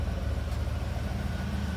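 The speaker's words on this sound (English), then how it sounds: "She's idling smooth." A flood-damaged Cadillac Allante idles smoothly up close, a steady, even low engine drone with faint exhaust pulsing and no talking.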